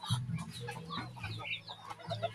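Chickens cluck and murmur nearby, short throaty calls overlapping with higher chirps, against a low rumbling background.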